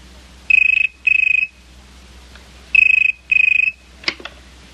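A telephone rings in two double bursts of electronic trilling, close and clear against a quiet background, followed by a brief clatter as the handset is picked up.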